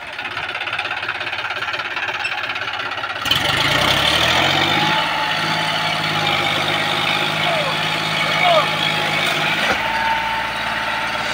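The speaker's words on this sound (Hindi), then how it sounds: "यहाँ पे जो ट्रैक्टर का टायर है वो स्लिप कर रहा है" An old John Deere 5104 two-wheel-drive tractor engine drones and knocks while its tyre slips for grip on a paved road, a loud rumbling that surges after a few seconds and then holds, with someone speaking over it.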